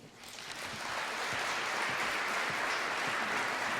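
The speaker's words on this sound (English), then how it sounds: "Let's give him another round of applause for his tremendous commitment to our City of Destiny and to tonight's program." A large audience at a civic awards evening breaks into applause that swells within the first second and holds as a dense, loud, steady wash of clapping.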